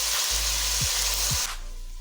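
Whole garam masala, biryani masala and star anise frying in hot oil for matar pulao, a steady loud sizzle with a couple of brief stirring scrapes before the hiss drops off near the end.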